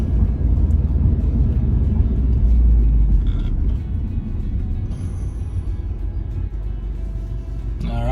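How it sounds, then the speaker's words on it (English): A 2010 Subaru Impreza STI six-speed manual wagon pulls away and accelerates, its engine rumbling loud and steady from inside the cabin before easing to a lower cruising drone, with no talk. "we'll just get up here and get it up on the highway and kind of show you how it drives"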